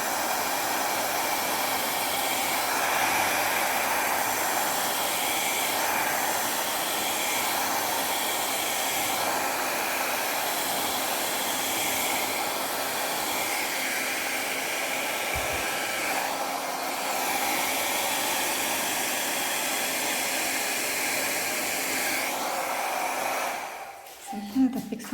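A hair dryer blows across a teal acrylic paint pour, a steady, loud, close whooshing roar that runs unbroken for over twenty seconds before cutting off with a few clunks at the end.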